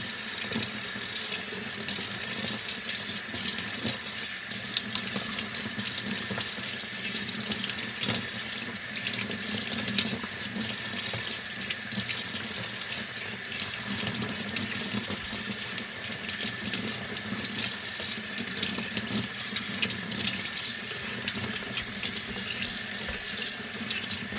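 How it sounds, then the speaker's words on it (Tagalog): Warm water runs steadily from a tap into a sink, a continuous hissing splash that stays loud and even throughout with no voices. "Warm water. Uh, ah, look, warm water."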